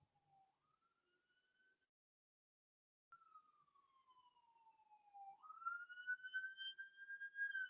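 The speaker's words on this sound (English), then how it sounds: "I hear the sirens in the background." Wailing emergency siren, likely a police car, rising and falling in pitch from a distance, faint at first and then growing louder toward the end, with no talk over it.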